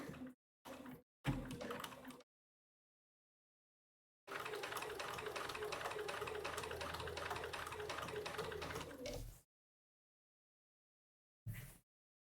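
A sewing machine running a back stitch, with brief bursts of mechanical clatter, then a steady rapid stitching run of several seconds and a short final burst, close and alone with no talk.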